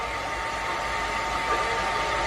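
A handheld hair blower running steadily, a constant airy whir with a faint tonal hum, close and unchanging throughout.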